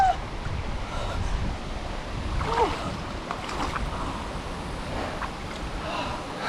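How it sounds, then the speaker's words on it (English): Strong wind roars across the microphone during a bike ride on the Ashton–Tetonia rail trail in Idaho, a steady low buffeting rumble that fills the whole stretch without letting up. "I don't know if you can hear it, but this wind is killing me"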